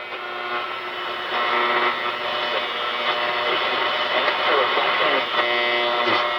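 A radio speaker full of static and noise gives a steady hiss and crackle throughout, with faint muffled voice-like sounds buried under the noise.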